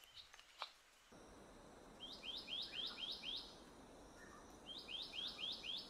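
Repeated bright, rising whistled phrases from a flycatcher in Taiwan ring out in quick series, pausing and then returning, over a steady hiss of background ambience.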